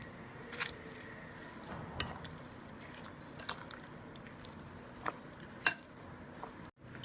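Biryani marinade is mixed with chili powder and turmeric, giving faint wet squishing and soft clicks of a utensil against a bowl, with a few sharper taps scattered irregularly over quiet kitchen background.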